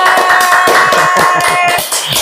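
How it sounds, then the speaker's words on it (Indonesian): Audience applause at a school event: a dense, loud burst of many hands clapping at once, close and continuous for about two seconds with no talk over it. "Tepuk tangan dulu buat kita semua."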